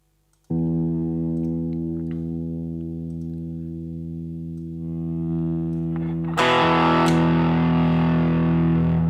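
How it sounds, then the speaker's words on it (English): An electric guitar played through distortion and chorus effects rings out a single sustained, buzzy note for a tuning check. A louder, brighter strum bursts in near the end, close and with no talking. "Let me just tune up real quick."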